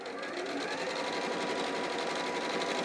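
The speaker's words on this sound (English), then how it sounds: "we're simply going to sew across." A sewing machine runs steadily as it stitches straight across fabric at a quarter-inch seam: a continuous, fast, close mechanical whirr with a rapid needle rhythm throughout.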